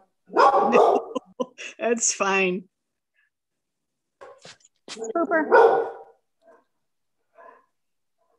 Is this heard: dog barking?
yes